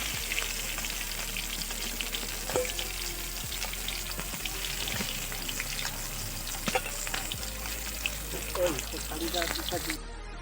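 Fish frying in hot oil in a village kitchen, a steady broadband sizzle running throughout with occasional sharp crackles and spatters, close and continuous.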